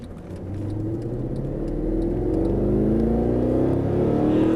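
A Mercedes-Benz SLS AMG accelerating on a race track in Las Vegas, its engine note climbing steadily into a loud, close, rising roar inside the cabin, held for several seconds without speech.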